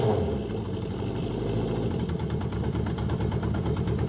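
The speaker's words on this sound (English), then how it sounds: "right where she's supposed to idle. 1200 RPM." Honda CB350F motorcycle engine idling at 1200 RPM, a steady low rumbling throb with even pulsing and a light mechanical clatter, close and continuous, with no talking.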